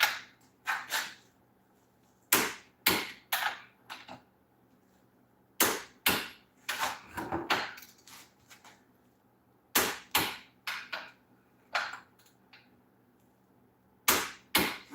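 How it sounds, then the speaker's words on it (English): A torque wrench tightens bolts to 75 foot-pounds on a 9-inch Ford rear end, a series of sharp metallic clicks in quick bursts of two to four, separated by short pauses, close and crisp. "I'm going to be able to go ahead and torque them up. So I'm going up to 75 foot-pounds"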